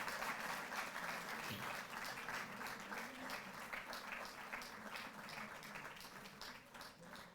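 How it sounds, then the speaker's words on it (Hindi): Audience applause during a lamp lighting ceremony at a felicitation of Asian Games medal winners, a steady crowd clapping that is faint and distant and runs unbroken throughout. "तालियां जोरदार, स्पोर्ट्समैन वाली तालियां"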